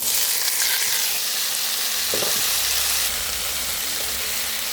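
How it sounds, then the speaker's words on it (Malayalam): Ivy gourd tipped into a hot pan of oil and toasted chili flakes, a steady loud sizzle throughout with a brief clatter and a low rumble as the vegetables land midway, no voices. "ഞാൻ കോവയ്ക്ക ഉണ്ടല്ലോ ഇങ്ങോട്ടിടുവാണ്."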